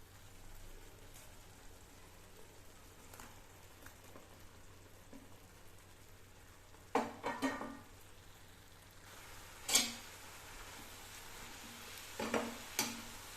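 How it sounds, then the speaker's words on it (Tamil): Bitter gourd frying in a pan until crisp, a faint steady sizzle with a few louder bursts of stirring and crackle partway through. "நல்லா ஒரு முருன்னு வர்ற அளவுக்கு வறுத்தெடுக்கணுங்க"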